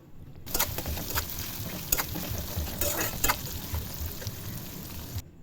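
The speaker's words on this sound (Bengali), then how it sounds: "তেল গরম হয়ে গেলে আমরা সর্ষে দিয়ে দেব। তারপরে আমরা দিয়ে দেব আমাদের কুচি করে রাখা পেঁয়াজ।" Chopped onions and mustard seeds frying in hot oil in a wok give a dense, crackling sizzle for about five seconds, with a few sharper spits and pops standing out.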